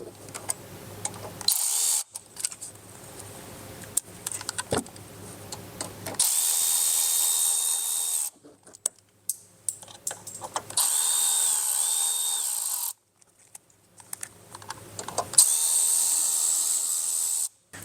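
A power tool with a T10 Torx bit backs out screws holding a wheel-well liner on a 2023 GMC Canyon. Several whirring bursts of a few seconds each are separated by short pauses, close and fairly loud.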